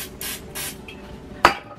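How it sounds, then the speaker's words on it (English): Cooking spray hisses into a pan in three short bursts, the last one the sharpest and loudest, close by with no speech. "Oh, I didn't spray it first."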